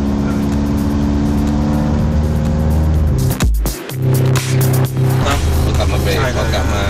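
A Honda Accord engine revs loudly and steadily, dips sharply for a moment as the car brakes, then picks back up, with people talking over the engine noise throughout.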